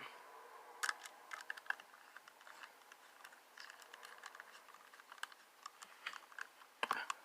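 Small screws are driven back into the battery compartment of a Hasbro Yo-kai Watch toy, giving a string of faint, close, irregular clicks and light ticks against a quiet background.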